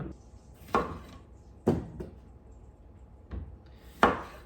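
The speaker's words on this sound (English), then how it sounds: "Just going to slice that up so that they can get boiled." A knife slicing through potatoes onto a cutting board, four separate firm cuts spaced about a second apart, each a sharp close thud with a short tail, quiet between strokes.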